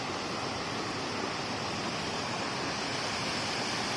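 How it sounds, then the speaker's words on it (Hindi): A waterfall pours continuously beside a bridge, its broadband rushing roar steady and loud throughout with no voices or breaks. "और पानी की आवाज तो सुन ली होगी"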